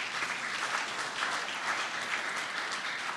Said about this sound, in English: Can you clap for him too?